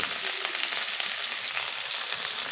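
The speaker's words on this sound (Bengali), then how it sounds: "এবার ফুলকপি সিম আর গাজর দুই মিনিটের মতো একটু ভেজে নেব" Cauliflower, flat beans and carrots fry in a pan with a dense, steady, even sizzle that holds at one level without pauses.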